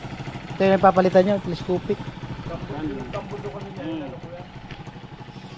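Used motorcycle engine idling steadily with a low, even throbbing rumble, heard close by under someone talking throughout.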